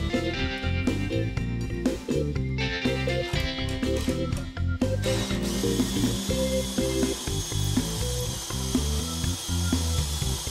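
A power drill spins a workpiece with its corners cut down to fit the chuck, held in a jig while making a K-Cup dispenser. It gives a steady, continuous mechanical whine with a shift in tone partway through.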